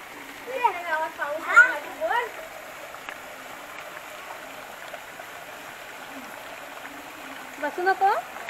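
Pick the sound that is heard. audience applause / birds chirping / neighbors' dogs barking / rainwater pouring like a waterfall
rainwater pouring like a waterfall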